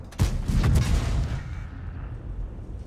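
A tank gun fires in World of Tanks with a sharp, heavy boom that rolls into a rumbling tail, followed by a lower steady battle drone. No voices.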